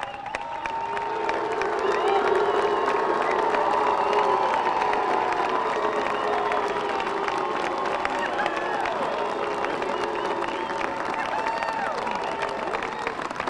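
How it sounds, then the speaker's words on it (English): A large crowd at a gun bill signing by the governor makes a sustained, loud roar of booing and shouting that fills the room without pause. "Be careful what you're booing at here."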